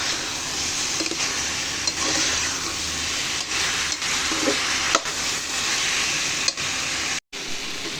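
Chalta pickle with ground panch phoron cooking in a pan, a loud continuous sizzle and hiss with faint stirring scrapes, cut by one brief gap near the end and no voices.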